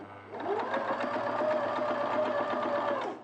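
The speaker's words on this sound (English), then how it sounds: "I was just going to do the straight sewing." A sewing machine fitted with an overlocker foot runs a steady straight seam, its rapid needle rhythm continuous and close for about three seconds with no talk over it.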